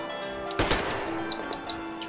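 Gunfire in the video game Metro Exodus: one sharp shot followed by a short run of quick, clicking impacts, close and fairly loud with no other sound behind it.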